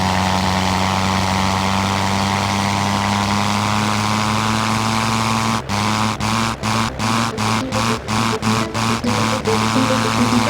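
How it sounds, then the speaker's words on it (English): A World War I era airplane engine in the flight sim Rise of Flight drones steadily with a strong low harmonic hum, then stutters in a rapid series of sharp cut-outs and pulses toward the end. "Putting these World War I era airplanes through their paces here in Rise of Flight"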